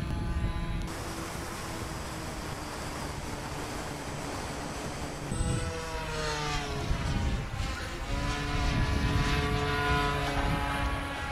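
A radio-controlled VQ Models Ju-52 model airplane comes in to land, its propellers making a steady, loud droning hum that shifts in pitch as it passes, continuous throughout with outdoor wind noise.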